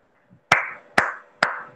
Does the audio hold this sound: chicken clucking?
no